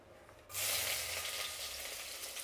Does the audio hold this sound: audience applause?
no